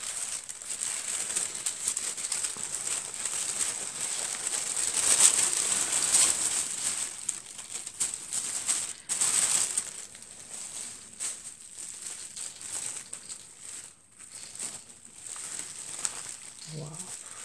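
Gift wrapping paper being carefully unwrapped by hand, with soft crinkling and rustling that goes on steadily throughout, a few sharper tearing bursts in the middle, all close and moderately loud.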